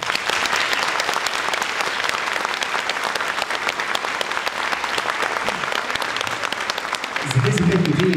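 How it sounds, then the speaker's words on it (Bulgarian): Sustained, dense applause from a concert audience for a children's folk dance ensemble, steady and loud throughout and swelling slightly toward the end. "А най-ценният подарък за тях ще бъдат вашите аплодисменти."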